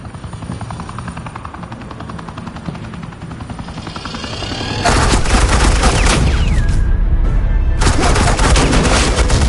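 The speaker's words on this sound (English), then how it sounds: "Suppressing fire." Suppressing gunfire in a Batman video game sounds as rapid, continuous automatic bursts over a helicopter-like drone, swelling into a loud, dense fusillade halfway through.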